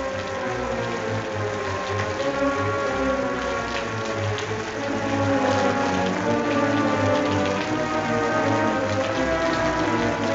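Rain falls heavily at night, a steady dense hiss of drops that stays constant and fairly loud throughout, with no voices over it.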